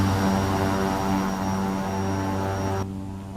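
Steady drone of an Embraer 110 propeller aircraft in the X-Plane flight simulator, a constant engine hum with a thin high whine that drops in level near the end, no voices.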